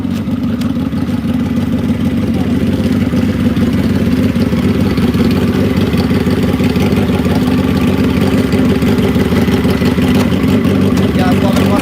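A drag racing motorcycle idles loudly and steadily, a rough, low, throbbing engine note with faint clatter that holds for the whole stretch without any revving.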